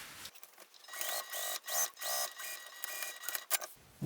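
Sewing machine stitching binding onto a clear vinyl pouch, close and quiet, in several short bursts of rapid mechanical whirring separated by brief pauses.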